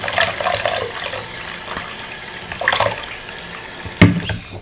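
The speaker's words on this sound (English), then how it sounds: "So turn back on your faucet and squirt in some soap." Water runs from a sink faucet into a basin, a steady close splashing stream with a brief louder gush near the end, no talk over it.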